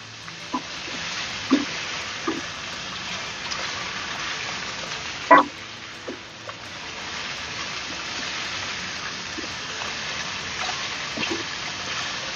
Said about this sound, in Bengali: সেদ্ধ করা মাটনটা দিয়ে দিতে হবে, দিয়ে খুব ভালো করে এর সঙ্গে মিক্স করে আবার 5 মিনিটের জন্য একটু ভাজতে হবে